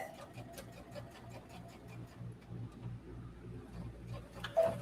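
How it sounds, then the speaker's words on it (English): A sewing machine stitches seams on wide-leg sweatpants, giving a steady rapid ticking rhythm at moderate distance that runs throughout, with a faint bump near the end. "we're gonna just stitch those places that would be tricky to sew"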